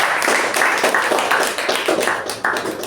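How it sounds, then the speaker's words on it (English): A Toastmasters club audience gives a round of applause, heard as a loud, close burst of claps pulsing in a fairly even rhythm throughout. "Let's give him a huge round of applause."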